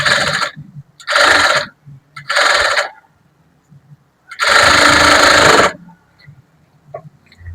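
A sewing machine stitches across a cut fabric joint in four bursts: three short runs, then one longer run, each a buzzing whir separated by quiet pauses with faint handling noises.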